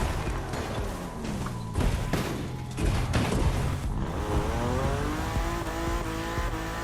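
A BMW M4 in the racing game The Crew Motorfest crashes, with a series of sharp impact thumps and tire scrapes followed by the engine revving and whining up; loud and close, no talk.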